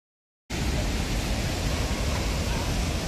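Steady, dense roar of a 45 m waterfall heard up close, a continuous broadband rush of falling water that starts abruptly and holds at an even level without pauses.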